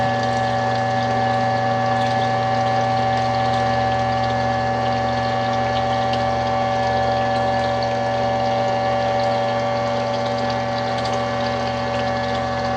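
Water runs out of a homemade 5-gallon bucket filter feeding a duck pond, heard as a constant loud flow over the steady hum of a pump with no breaks.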